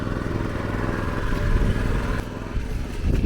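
A tractor engine chugs steadily in a rice field, a loud close low rumble that holds throughout with slight surges in power.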